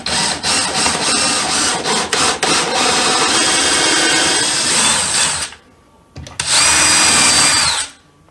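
A power drill countersinking a hole in a wooden spacer, whirring loudly and steadily for about five seconds, pausing briefly, then running again in a shorter burst before stopping.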